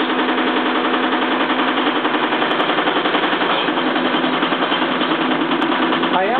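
Small electric motor driving an alternator for a transfer switch setup runs steadily and loud the whole time, a buzzy mechanical whir with a slight dip in pitch partway through, no one talking.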